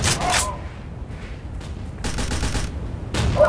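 Bursts of video game gunfire aimed at a turret during an online match. Short rapid volleys of shots come in clusters separated by quieter gaps, at moderate loudness.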